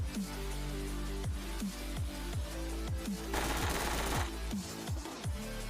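Gunfire in the battle-royale game BGMI (PUBG), a steady run of rapid repeated shots with a brief denser burst midway, loud and continuous over game music, with no talking.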